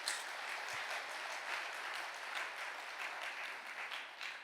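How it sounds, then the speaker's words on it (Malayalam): An audience at a church retreat talk claps together in a steady, even patter that lasts several seconds. It sounds faint and somewhat distant, with no voices over it. "ഒന്ന് കൈയടിച്ചേ."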